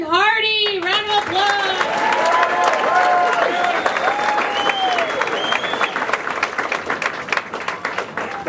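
A comedy show audience applauds steadily for an Air Force veteran comedian taking the stage, a dense, loud wash of clapping with cheers and whoops rising over it near the start, then slowly thinning out.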